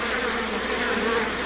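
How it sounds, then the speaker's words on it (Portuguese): A swarm of honeybees clustered on a branch gives off a continuous, even buzzing drone, close and steady with no voices over it. "Para remover um enxame de abelhas ativas, como este"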